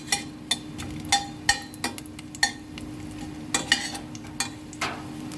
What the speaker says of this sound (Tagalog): kailangan muna natin yan igisa sa luya para mapampawala ng lansa o mawala ang lansa ng ating tilapia